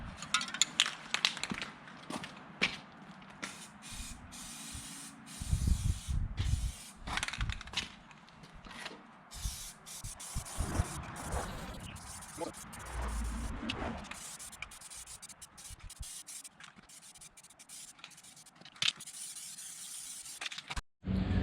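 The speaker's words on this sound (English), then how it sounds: "Using this buff primer, John Deere stuff. This is awesome primer." John Deere buff primer is sprayed from an aerosol can onto a rusty John Deere F932 mower deck, with short bursts of hissing spray separated by pauses and light handling sounds, faint and close.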